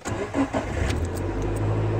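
A car engine cranks and catches, then settles into a steady low idle, close and fairly loud with no talking.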